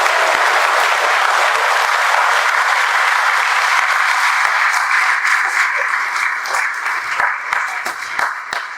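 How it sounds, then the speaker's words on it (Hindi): A loud, sustained round of audience applause for an education group's chairman at an event, thick continuous clapping from a large crowd that thins into scattered claps near the end. "तो एक बार आप सर के लिए तालियां बजाएं जोर से।"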